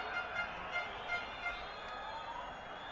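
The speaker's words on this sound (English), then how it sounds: "You can hear the crowd roar." Cricket crowd at an ACC Men's Premier Cup semi-final between Nepal and Kuwait, a steady distant roar with rhythmic swells of cheering, fairly faint and continuous with no clear voices on top.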